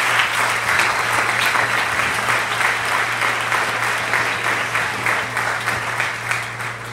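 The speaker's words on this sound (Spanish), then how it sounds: "Dale un aplauso al Señor, por favor." A church congregation applauds in a sustained, even wash of clapping that continues for several seconds, with a steady low hum underneath.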